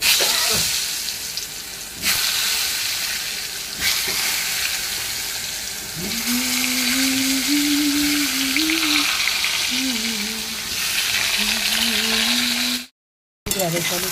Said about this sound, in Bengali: এই যে পটল ভাজা হবে